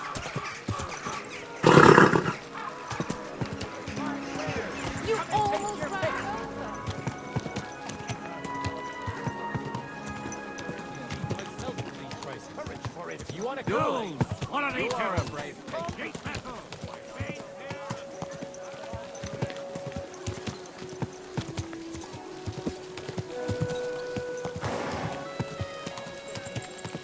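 Horse hooves clip-clop at a steady trot in the medieval game Kingdom Come: Deliverance 2, with whinnies and background music; a loud impact bursts out early, and voices call out over the hoofbeats.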